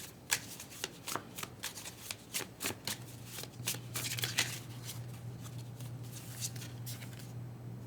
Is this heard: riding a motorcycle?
no